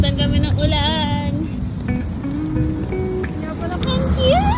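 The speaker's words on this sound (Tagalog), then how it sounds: "Nabutan kami ng ulan." Steady rain hisses in a broad, even wash outdoors while several people talk over it, with voices rising and falling throughout.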